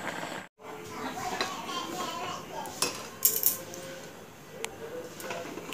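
A spoon scrapes and clinks against a cooking pot while rice pudding (payesh) with milk and sugar is stirred at an outdoor picnic, with light metallic taps, a brief sharp clatter, and soft voices in the background.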